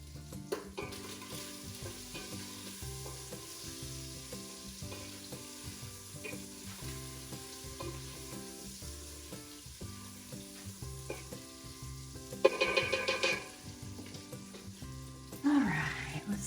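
Bacon frying in a pot on the stove while clam chowder is made, a steady low sizzle throughout with a brief clatter of stirring near the end.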